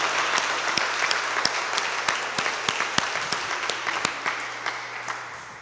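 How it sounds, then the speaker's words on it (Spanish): A church congregation claps together in a sanctuary, a full, bright burst of applause that holds steady before slowly thinning out, with a few sharper individual claps standing out near the end. "Dale un fuerte aplauso al Señor, iglesia."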